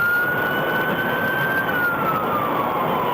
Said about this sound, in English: As Deputy McGuigan activated his lights and siren